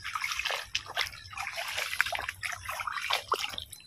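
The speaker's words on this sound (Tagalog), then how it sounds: "Ang lakas ng tubig." Strong water rushing and trickling along a river or coastal stream on a fishing outing, a continuous splashing flow that stays fairly steady and close with small surges, no voices.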